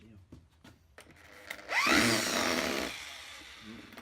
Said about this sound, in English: Okay, we've got the power drill.